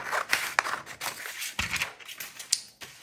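Scissors snip through paper for card making, a series of crisp, irregular cuts and rustles at close range, fairly quiet with no talking.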